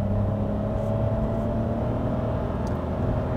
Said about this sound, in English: let me just let you hear it. Full throttle.